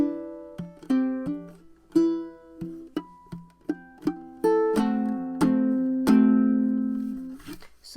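Fingerstyle ukulele playing the intro of a song, with plucked notes and chords in an uneven rhythm, a few percussive wrist thumps, and a final strummed chord ringing out, close and clear with no voice.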